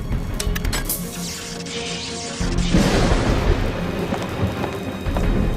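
A loud, sustained rumble of thunder from lightning striking a laboratory mast in a film about Tesla, with a rain-like hiss that swells partway through and no voices.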